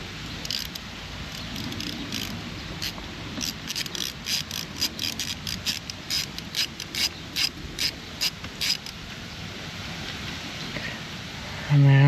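A socket wrench ratchets on a bolt of the lower unit gearcase on a 1995 Johnson 115 hp outboard, a long series of quick clicking strokes in an even rhythm, close and fairly faint.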